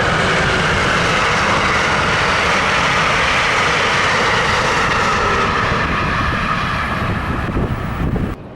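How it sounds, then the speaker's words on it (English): Northbound Amtrak 318 rolls past a level crossing, a loud, sustained rumbling roar with wind buffeting that holds steady for several seconds before easing off near the end. "As I arrive at my parking place, I see the gates are down for northbound Amtrak 318."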